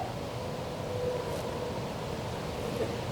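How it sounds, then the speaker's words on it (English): Steady broadband wind rush blowing through pine thickets, constant and fairly loud, with no voices. "so it's windy"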